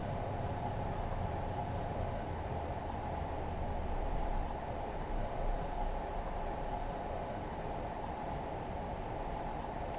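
A British Rail Class 52 locomotive runs at speed in Train Simulator, producing a constant, even rumble of wheels and rushing air with a low broadband roar that stays steady throughout.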